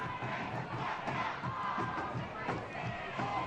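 A soccer crowd at Keyworth Stadium in Detroit makes a continuous roar of chanting and cheering at a rainy night match between Detroit City FC and Loudoun United, heard from a distance.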